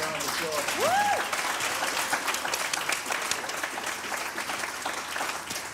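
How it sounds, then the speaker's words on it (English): A town hall audience gives panelists a dense, sustained round of applause, loud and steady throughout, with a brief rising whistle or cheer near the start. "So let's give our panelists another round of applause."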